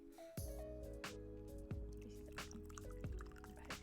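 Water poured into a container of noodles gives off a series of close, rhythmic glugs that repeat about every half second and continue steadily throughout.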